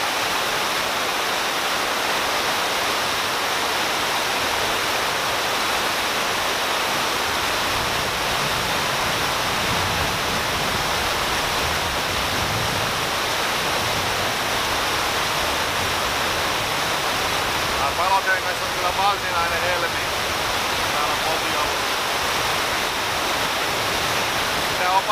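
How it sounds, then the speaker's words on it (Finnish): Steady, loud roar of river rapids and small waterfalls on the Palojoki, a Finnish river that is almost entirely rapids, continuous and close throughout with no other sounds. "Ja Palojoki on lähes pelkkää koskea ja tämmöisiä pienempiä putouksia on tässä useita."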